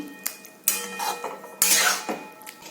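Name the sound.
mixing boiled egg into chicken bharta in a pan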